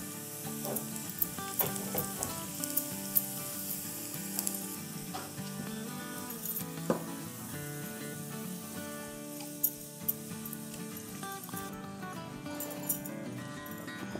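Sliced garlic fries in hot oil until crisp, a soft continuous sizzle with light clinks and ticks of a utensil against the pan, close and fairly quiet, with no talk.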